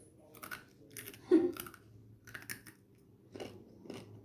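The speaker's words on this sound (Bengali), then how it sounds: "এটা হচ্ছে চিংড়ি মাছের পা, আর এটা আমরা খেয়ে দেখাবো যে এটার টেস্ট কেমন।" Someone crunches and chews fried shrimp legs up close, giving a few distinct bites with crisp crackling between pauses and no talking.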